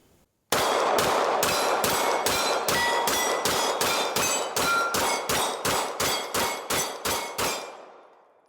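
About sixteen rapid Glock pistol shots fired at alternating targets, fitted with an aftermarket performance trigger, ring out as loud, sharp cracks in a steady rhythm with ringing tails, each decaying a little faster toward the end of the string.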